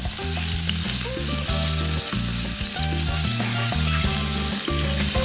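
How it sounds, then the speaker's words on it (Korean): Ground pork stir-fried in oil in a pan, a steady, close sizzle that runs throughout while music plays beneath, with no talk. "이 기름에 고기까지 같이 볶으니까"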